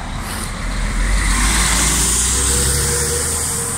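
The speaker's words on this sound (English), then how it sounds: "Why the bus is so loud?" A loud bus drives past close by, its engine roar and broad road noise filling the whole stretch at steady high volume without letting up.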